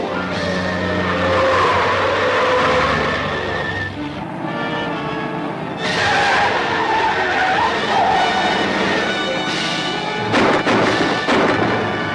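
Car in a 1945 Western film chase, a continuous loud engine roar with screeching tire squeals and crashing bursts over an orchestral score, no speech.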